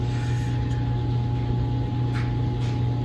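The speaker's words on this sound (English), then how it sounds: "I'm sorry if you could hear my dryer going in the background of this video" A steady low mechanical hum and drone fills the room continuously, like an appliance tumbling in the background, with no voices.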